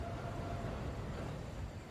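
Trains rumbling by below a bridge in a radio drama, a faint, steady, broadband rolling rumble with no distinct clicks or horn, heard from a distance.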